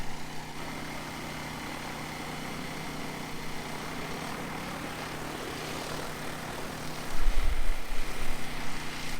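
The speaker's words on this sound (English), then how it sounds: "like a little drone, how loud and wild, fast the blades spin" An agricultural spraying drone flies in to land, its spinning rotor blades giving off a loud, steady buzzing drone that swells and grows rougher as it nears the ground at the end.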